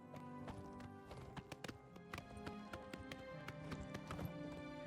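Hooves clip-clop from an armored horse in the video game The Elder Scrolls IV: Oblivion Remastered, a quick, steady run of sharp hoofbeats with a whinny, set against a faint musical background.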